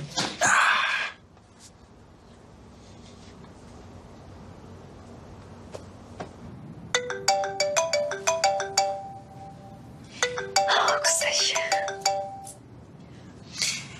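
A phone ringtone plays a repeating electronic melody in two bursts, fairly clear over a quiet room, after a brief loud sound at the start.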